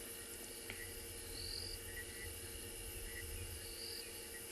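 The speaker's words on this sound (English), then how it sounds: "Even the crickets, can you hear them?" Crickets and other insects chirp continuously in the African bush at dusk, a faint steady high-pitched drone with occasional distant bird calls and no talk.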